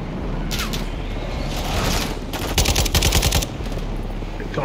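Automatic gunfire in Call of Duty: Modern Warfare II while driving a vehicle, loud rapid bursts over a constant engine rumble, with a longer dense volley near the end and no voices.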